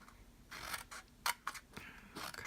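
Scissors or a blade cut through a cardboard soap box, giving a few short, quiet snipping and scraping strokes close by with gaps between them.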